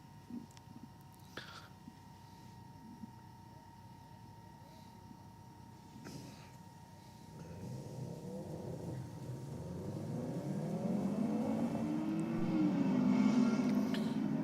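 A Subaru race car accelerates down a drag strip at night, its engine growing from a distant low rumble to a louder rising roar over several seconds as it gets nearer.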